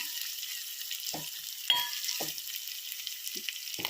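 Oil sizzles and crackles steadily as tempering spices fry for a dal, with a few soft clinks of a spoon against the pan.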